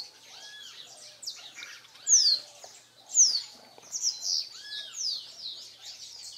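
Small birds chirp and tweet near their nest in a garden, giving bright, quick calls and a few louder sharp notes. The calls repeat at irregular intervals and sound close and moderately loud, with no talk.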